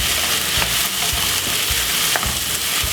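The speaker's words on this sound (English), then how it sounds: "the veg is frying" Steady sizzling of vegetables frying in a pan, a continuous close crackle with occasional soft stirring clatters, no voices.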